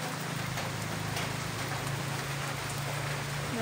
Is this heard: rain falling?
yes